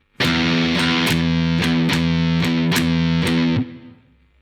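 Loud, close distorted electric guitar repeats a swinging stoner rock riff phrase, the opening strokes left ringing and the later ones palm muted into clipped chugs, ending with a short decay.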